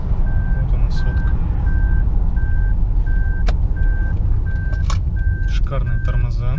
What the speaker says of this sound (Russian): Так, что она пикает, я понять не могу.